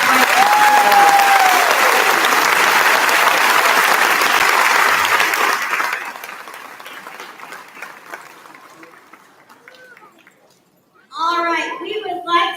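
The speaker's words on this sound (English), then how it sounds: "give all those boys and girls a big round of applause right now" Loud audience applause for kindergarten graduates at a graduation ceremony, a dense wash of clapping for about six seconds that thins out and fades, before a voice begins speaking near the end.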